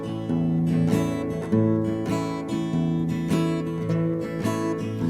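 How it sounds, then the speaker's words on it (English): A guitar plays a steady picking pattern, bass notes alternating under ringing chords, moderately loud and close, with no talking. "I'm going to alternate these 2 bass strings."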